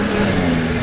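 A car's engine revs steadily as it pulls free after being stuck on a rough road in South Sudan, a short loud mid-pitched whir close by.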